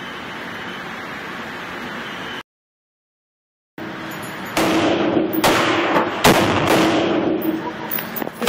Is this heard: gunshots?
yes